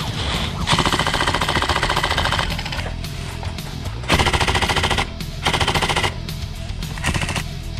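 A VFC airsoft M249 support gun fires long rapid bursts, a dense mechanical rattle of buzzing shots in several strings separated by brief pauses, loud and close.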